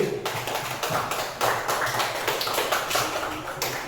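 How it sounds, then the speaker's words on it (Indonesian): A middle school class clapping hands in a room, a fairly close, uneven patter of claps in loose bursts over about four seconds with no talking. "Boleh kita tepuk tangan untuk kelas 7D."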